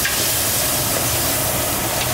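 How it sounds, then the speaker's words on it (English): Chopped tomatoes, tomato sauce and masala tadka for dal sizzle loudly and steadily in a hot pan, a dense continuous frying hiss with no talking. "You can see how it's already sizzling."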